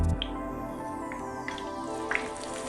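Chicken pakora fries in hot oil, giving a soft, steady bubbling sizzle with a few scattered pops and crackles, close and moderately quiet.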